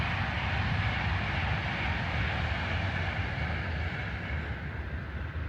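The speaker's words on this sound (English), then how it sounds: "that was one of the trains in the background there." A train rumbling past in the background near a small campsite, a steady broad roar that holds evenly for several seconds and fades slightly toward the end, with no voices.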